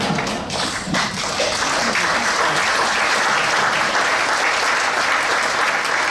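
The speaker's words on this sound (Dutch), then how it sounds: "Ik weet niet precies wat dat applaus betekent." Loud, dense applause from a large crowd at a mayor's installation ceremony in Heerlen, sustained and steady throughout with no talking.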